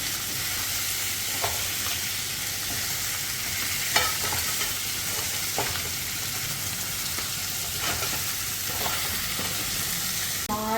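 Crab being stir-fried in masala over a stove on simmer, a continuous low sizzle broken by periodic scraping stirs and light utensil knocks, close and unhurried, with no talking.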